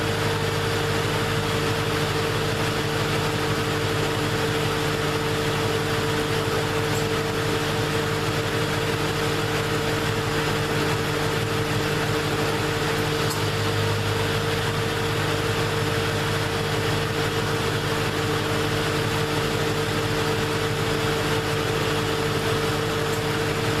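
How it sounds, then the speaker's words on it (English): A Bullitt Mustang's engine idles with a steady, even hum while its air conditioning compressor runs. The tone holds constant throughout with no clear break. "you can actually hear that the compressor's not coming on that much anymore"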